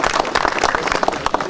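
An audience at a marker dedication applauds Curtis Anderson with a burst of dense, close clapping that holds at a steady level for its short length.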